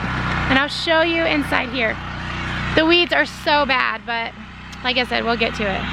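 A garden tiller runs steadily in the background beside a vegetable garden, a low constant engine drone under someone speaking close by throughout.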